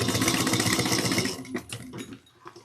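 A sewing machine runs a steady, rapid stitching whir along a 1 inch seam for a bag, continuous for over a second, then slows into a few uneven bursts and stops.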